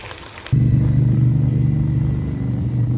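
A motorcycle rumbles past on a road near Saint-Émilion during a bike tour, arriving suddenly and loud with a deep steady engine drone that lingers close for a few seconds.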